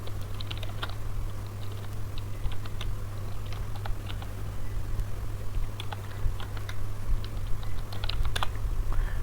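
Steady clicking of keys typed on a computer keyboard while clearing a terminal screen, irregular taps spread across the whole span over a low constant hum, close and moderately quiet with no talk.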